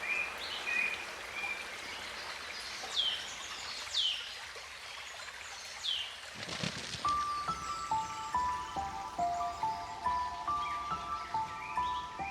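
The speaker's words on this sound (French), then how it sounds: "et le piaillement des tisserands qui construisent leur nid." Weaver birds building their nest in the African savanna chirp and chatter in short, busy bursts, some high thin calls, over a faint background of running water.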